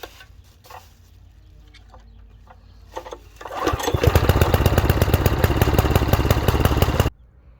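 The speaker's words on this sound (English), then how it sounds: "So I'll come over and start it up." A Huskee tiller's small engine sputters, catches and roars into a loud, steady running rumble for a few seconds, then cuts off abruptly.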